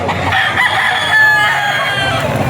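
A gamefowl rooster, a three-year-old white streamer at a Bocaue auction market, crows steadily and loudly for the whole stretch, with a busy market murmur beneath it.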